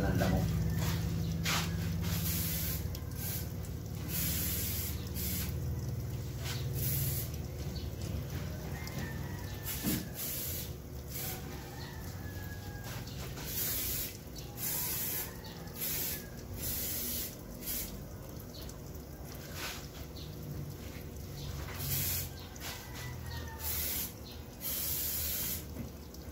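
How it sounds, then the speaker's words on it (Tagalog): Mosquito repellent is sprayed from a can in repeated short hissing bursts, fairly faint over a low background hum, with brief talk in between. "Sprayan natin yung ating ano, kay malamok."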